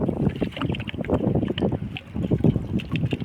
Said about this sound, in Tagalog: pasensya na at napapansin nyo mahangin. Maingay, mahangin kasi.